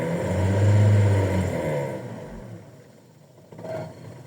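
Warmed-up car engine running on petrol after switching over from gas by itself, no throttle: a close low drone that swells early, eases into a quieter steady idle, then gives a small brief lift near the end.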